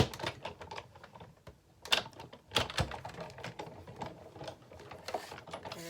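A Big Shot die-cutting machine has its hand crank turned to run a paper card through and cut it, giving a close series of rapid ratcheting clicks and clacks with a few heavier thunks, fairly quiet and without talk.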